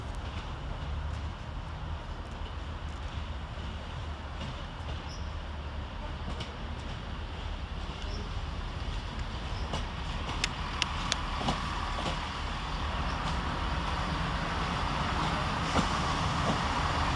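A Northern diesel unit from Newcastle pulling into Carlisle railway station, a steady rumbling hum with occasional clanks and squeals as it arrives, heard from the platform.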